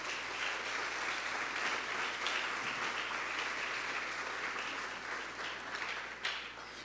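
Church congregation applauding, sustained dense clapping filling the room at an even level for several seconds.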